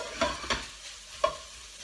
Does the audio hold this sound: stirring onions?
yes